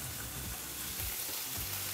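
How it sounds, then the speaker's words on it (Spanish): Halved olives sauté in a pan for puttanesca sauce, giving a loud, steady close sizzle with no talking. "Dejamos sofreír un poco."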